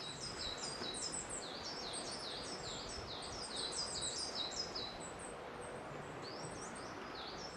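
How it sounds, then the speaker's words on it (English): Several birds sing together in a thick forest near Black Rocks, Cromford, in Derbyshire, giving a steady chorus of high, repeated chirps and warbles over a soft, continuous background hiss. "Can you hear the birds?"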